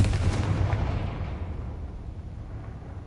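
Confringo blasting spell from Hogwarts Legacy, a booming fiery explosion that hits hard at the start and then rolls off into a long, dull rumbling decay.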